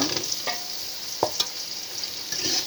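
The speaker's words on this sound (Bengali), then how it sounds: "এবার আমি মিষ্টি কুমড়া দিয়ে কষিয়ে নেব।" Pumpkin stir-fried with fish in a pan, a continuous bright sizzle broken by a few scraping strokes of the spatula, close and fairly loud.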